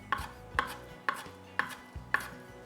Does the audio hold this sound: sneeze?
no